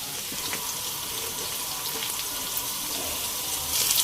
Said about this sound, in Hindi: इसको हमें फ्राई करना है प्याज को इस ऑयल के अंदर।